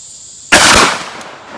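A single loud 12 gauge shotgun blast firing a zinc .690 round ball at a range, one sharp close report that decays over about half a second, with no talk.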